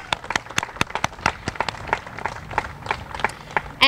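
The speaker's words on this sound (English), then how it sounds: "So let's get a round of applause to." Applause at an outdoor ribbon cutting for a city park, a loose scattering of individual claps from a small crowd, sharp and distinct, with a sparse uneven rhythm.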